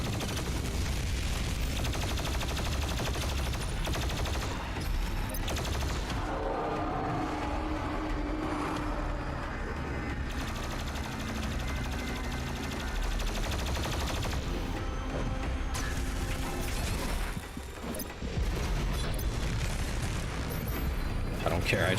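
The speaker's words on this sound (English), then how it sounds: "I think I'll just stick with using the plasma rifle." Plasma rifle in DOOM Eternal on Nightmare difficulty, firing in long, rapid, loud bursts amid chaotic combat noise, with a player talking over the fire.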